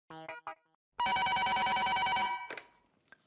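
A telephone rings with a loud, sustained electronic trill lasting about a second and a half, set in a household sitcom scene, preceded and followed by brief voices.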